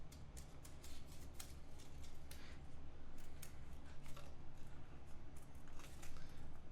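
Scissors snip through a paper card from an EXIT escape game, a steady run of quiet, crisp cutting clicks close to the microphone with a low background hum.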